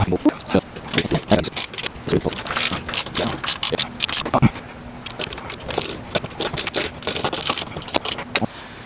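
13 mm ratchet tightening a nut on an adjustable-height work table, with rapid, continuous clicking of the pawl in quick bursts, loud and close, and a faint steady hum behind it throughout.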